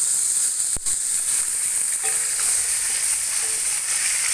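Beef pieces frying in a hot pan with ginger, garlic and onion, a steady close sizzle with a sharp crackle burst near the start and continuous hiss throughout, no talking.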